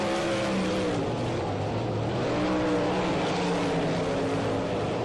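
360 winged sprint cars race around Ohsweken Speedway, their high-revving engines blending into a continuous droning roar with rising and falling pitch as the pack circles, heard from a distance.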